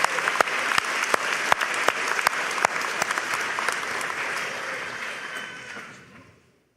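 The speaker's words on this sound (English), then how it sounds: "Please join me in a round of applause" Steady applause fills a Middle Georgia State University spring graduation ceremony, thanking a foundation and its donors, with sharp individual claps standing out over the crowd's wash before the sound tapers off and ends.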